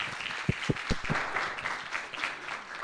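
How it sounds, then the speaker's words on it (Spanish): A small audience claps to welcome a presenter at a hospital talent expo talk, a close, steady patter of hands with a few sharp individual claps near the start, fading slightly toward the end. "recibimos con un aplausito a Flor."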